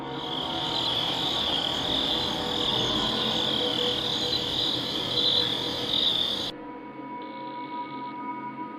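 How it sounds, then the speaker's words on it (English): Crickets chirp steadily at night outdoors in a dense, continuous high trill that stays loud and even, then suddenly drops to a quieter, thinner chorus near the end. "catches nothing but crickets chirping under a night sky"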